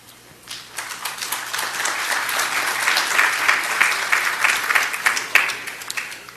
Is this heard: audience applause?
yes